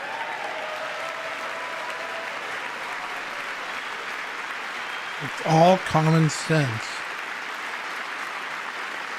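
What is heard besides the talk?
applause from Congress audience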